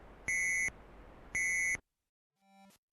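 Two loud, sustained square-wave tones from an AY-3-8910 sound chip, one generator fixed near 1945 Hz and another switched between two close pitches, each burst lasting about half a second over a hiss, followed by a short fainter chirp.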